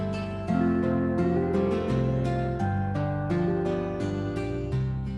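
Keyboard auto-accompaniment playing a guitar pattern with no drums, sustained strummed chords changing every second or so, steady and loud with no voices.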